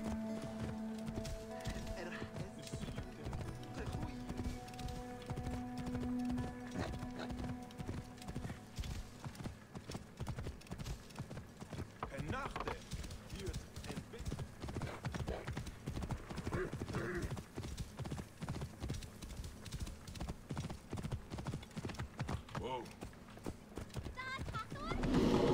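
Horse hooves drum in a quick, continuous gallop in the game Assassin's Creed Origins, loud and rhythmic throughout, with occasional whinnies and voices in the background.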